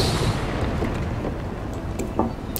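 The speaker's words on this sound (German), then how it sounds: "zieht euch zurück, der explodiert gleich" An enemy blows up in Guild Wars 2 with a heavy rumbling explosion that spreads into a continuous low roar, with a few sharper crackling bursts on top.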